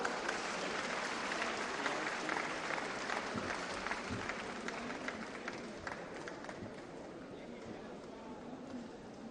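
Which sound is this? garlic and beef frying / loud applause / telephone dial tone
loud applause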